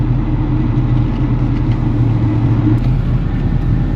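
A vehicle towing an Airstream travel trailer rolls along at low speed. A steady, loud engine and road rumble sits close by inside the cab, with faint rattles and no voices.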